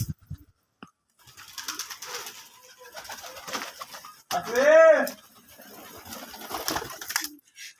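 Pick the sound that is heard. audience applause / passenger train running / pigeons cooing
pigeons cooing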